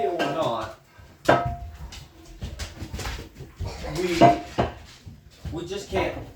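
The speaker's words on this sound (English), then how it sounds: "I had shit to do while doing the dishes" Dishes, pots and cutlery being washed by hand at home, with clinks and scrapes coming in bursts across the whole stretch, mixed with someone talking and other household background noise.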